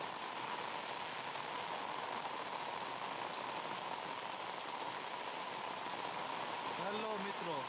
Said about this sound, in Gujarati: જો અહીંયા ધોધોકાર આવે વરસાદ.